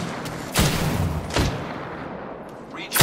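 Gunfire in the Apex Legends battle royale game: three sharp shots at irregular intervals over a steady game background, with a speaking voice under the action.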